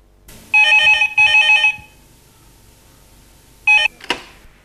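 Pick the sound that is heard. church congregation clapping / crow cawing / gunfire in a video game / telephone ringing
telephone ringing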